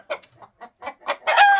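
Adler chickens cluck in short, separate bursts close by, ending in a louder, sustained squawk.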